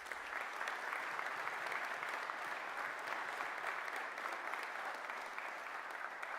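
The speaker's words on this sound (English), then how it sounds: "Give yourselves a round of applause." Steady, dense applause from a large audience at a college graduation ceremony, clapping continuously at an even level throughout with no voices rising above it.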